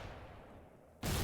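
A sudden, loud broadband blast hits near the end, following a low rumbling background of distant combat, like artillery fire landing close in the frontline war game Foxhole.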